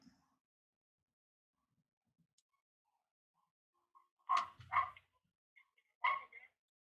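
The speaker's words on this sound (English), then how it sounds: "why they're barking?" Dogs bark in a few sharp bursts, two quick barks and then another a moment later, somewhat distant, after near silence.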